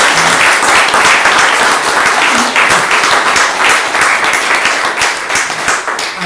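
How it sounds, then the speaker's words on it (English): Audience applause at a birthday celebration poetry reading honoring a poet with guest poets, a dense, steady wash of many hands clapping close by throughout, with no speech over it. "can we put our hands together for Tim"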